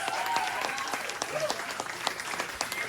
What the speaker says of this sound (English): some noise for Silver Shining Tiny Shorts